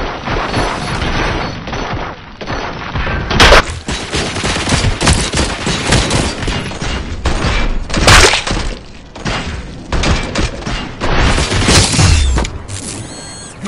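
Sustained gunfire in the video game RoboCop: Rogue City, with dense rapid bursts and sharp loud shots layered over mechanical clatter, continuous and close for the whole stretch.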